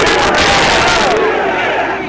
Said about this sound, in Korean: 이런 시끄러운 함성, 굉장히 익사이팅한 분위기였습니다